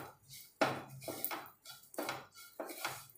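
Coriander laddu mixture with ghee being stirred in a pan, a few soft scraping and clinking strokes of a spoon against metal, quiet and close, in uneven bursts.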